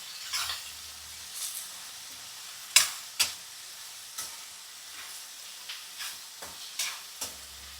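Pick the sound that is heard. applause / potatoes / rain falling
potatoes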